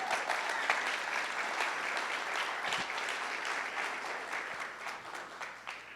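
A church congregation applauding during a sermon, dense sustained clapping from many hands filling the space evenly for several seconds, with faint crowd murmur beneath.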